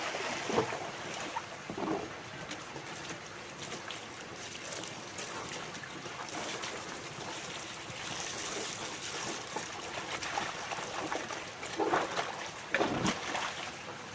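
Water poured out of a quarantine container for newly arrived fish, an uneven splashing and trickling with a few louder gushes, fairly close and moderately loud, with no talk.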